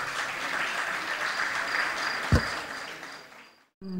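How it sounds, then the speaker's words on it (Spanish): Audience applause at a Canarian parranda night honoring musicians, a continuous wash of clapping with one sharp thump midway, cutting briefly to silence near the end before resuming. "Un aplauso para nuestros compañeros que esta noche no tocan, pero nos están escuchando y se merecen el aplauso"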